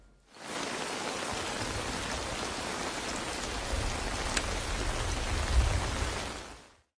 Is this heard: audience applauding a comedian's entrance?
no